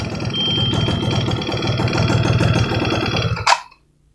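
A 1995 Yamaha F1Z R two-stroke motorcycle engine running right after starting, loud and close with a steady buzzing idle that ends in a sharp click and then silence.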